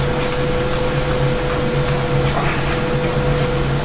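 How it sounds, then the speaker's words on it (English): Repeated short hissing sprays from a spray bottle, about eight quick bursts in a steady rhythm, close and fairly loud over a constant low hum. "We have a little bit left in the bottle, so we're just going to spray some more"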